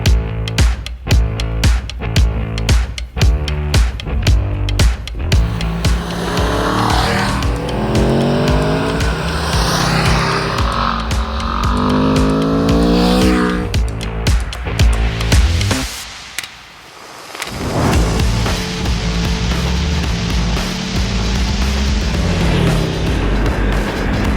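A 2021 Aprilia RSV4 Factory motorcycle's engine blips sharply in short bursts, then screams through rising, shifting revs under hard acceleration, dips briefly to near silence, and roars on again, loud and close throughout.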